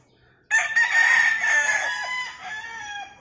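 A tall white-legged Boston Roundhead rooster crows once, starting abruptly and running loud and close for about three seconds before it tails off.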